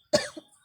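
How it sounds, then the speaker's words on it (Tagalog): A single short cough, close and fairly loud, with a small follow-up rasp, then quiet. "So, inuubo siya."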